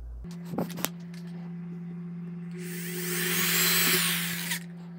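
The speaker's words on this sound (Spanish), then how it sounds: "voy a colocar un pequeño tornillo aquí" Small screw driven into a part of a PVC antenna mount, a quiet steady electric hum with a few sharp clicks at the start and a brief swell of high whirring in the middle.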